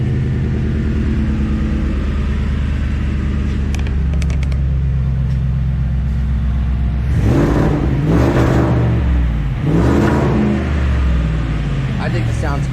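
A supercharged 1000-horsepower truck engine idles with a deep, steady rumble, then revs up in a few strong surges; a voice talks near the end.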